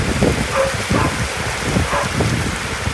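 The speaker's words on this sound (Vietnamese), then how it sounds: "Wow, ở ngoài mưa lớn quá, khá lớn luôn." Heavy rain pours steadily outdoors near a moored barge, a dense, loud hiss with scattered drops spattering close by. It is continuous and fills the whole stretch.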